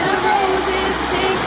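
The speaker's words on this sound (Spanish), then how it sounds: "Hace burbujas, que relaja." Jacuzzi water in a spa bubbling and rushing steadily, loud and close, a constant frothy hiss with no break.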